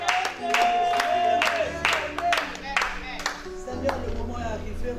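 A church congregation at a French-language Sunday service claps in sharp, rhythmic bursts, loud and close, with voices and a sustained sung or spoken tone running underneath.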